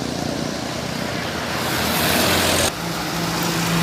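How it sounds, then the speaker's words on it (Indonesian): A BMH Nawi Basa bus rolls past on a bend in the morning, its engine drone and tyre roar steady and close, swelling before an abrupt drop near the end. "ini ada bus BMH Nawi Basa"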